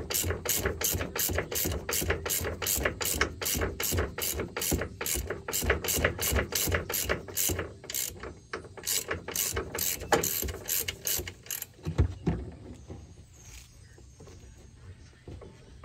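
A hand ratchet clicks rapidly and steadily, close and loud, while bolts are tightened during a 6-inch lift kit install on a 2022 Ram truck outdoors, slowing and stopping near the end.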